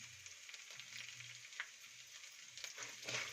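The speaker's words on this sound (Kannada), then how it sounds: "ಈಗ ನೋಡ್ರಿ, ಬೆಳ್ಳುಳ್ಳಿ ಹಾಕ್ಕೊತಿದ್ದೀನಿ" Garlic, added to curry leaves and peanuts, fries in hot oil in a pan with a soft, continuous hiss. Faint stirring clicks come through now and then, and a low hum sits underneath.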